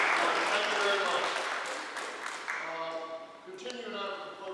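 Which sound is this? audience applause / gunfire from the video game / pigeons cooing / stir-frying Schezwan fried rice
audience applause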